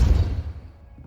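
The Depulso push spell in Hogwarts Legacy lands as a single dull thump at the start, then quickly dies away into a low rumble.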